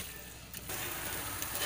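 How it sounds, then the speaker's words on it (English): Moong dal sizzles steadily in hot ghee as it fries for halwa, a dense, even crackle that swells slightly louder partway through and continues without talk. "You have to keep frying it."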